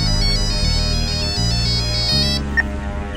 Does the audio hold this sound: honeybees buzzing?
no